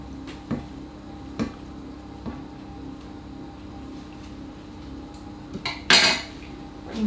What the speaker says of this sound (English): So I'll just scrape it off my spoon.